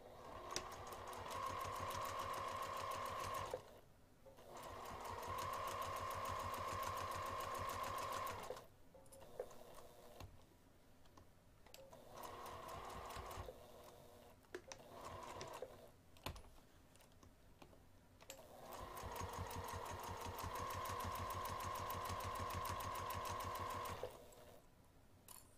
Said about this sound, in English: we're going to sew the entire outer edge of the binding using an eighth of an inch seam allowance